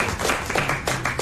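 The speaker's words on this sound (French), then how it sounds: "Daniel fait t'applaudit comme s'il était heureux pour toi" A man, Daniel, claps his hands in a short burst of a few quick, close claps during a French radio panel show, with light background noise.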